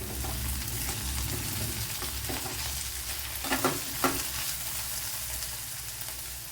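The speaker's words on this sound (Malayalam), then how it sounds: "ഇടയ്ക്കൊക്കെ അടപ്പ് തുറന്നൊന്ന് ഇളക്കി കൊടുക്കണം അല്ലെങ്കിൽ കരിഞ്ഞു പിടിക്കാൻ" Ivy gourd (kovakka) curry is stirred in a covered pan on the stove: a continuous soft sizzle with a few scraping strokes of a spoon midway, close and fairly quiet, no talking.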